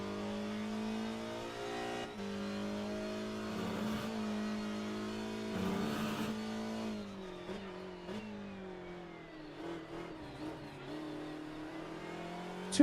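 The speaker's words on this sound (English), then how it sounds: "Now on board with Tommy Teasdale, driving the number 8 BMW 320i STW." Onboard engine of the number 8 BMW 320i STW touring car in a racing game, revving high through gear changes with shifts and dips, steady and close.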